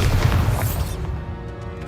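A Bombarda spell explosion in Hogwarts Legacy, a single close, heavy boom with a dense low rumble that decays over about a second into quieter game ambience.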